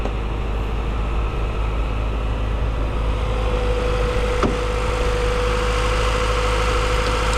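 The modified engine of a 1974 VAZ 2103 (Lada 1500) idles with a loud, steady, continuous rumble close by and one faint click partway through.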